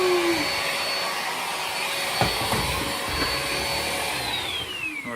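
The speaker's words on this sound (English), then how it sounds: "You can hear it spin a little bit more." A Hoover ONE portable battery vacuum runs steadily on carpet and hard floor, a loud continuous whirring whine with a brief bump and a motor pitch that shifts slightly, close by with no speech.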